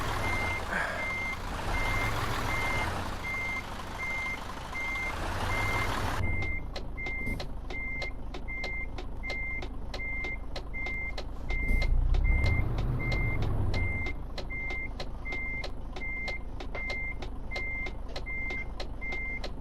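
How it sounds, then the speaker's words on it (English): A truck in Euro Truck Simulator 2 reverses with its reversing alarm beeping steadily in a fast, regular rhythm over a constant low engine drone, with a louder engine surge midway. "Not a great way of doing this, reversing onto a main road."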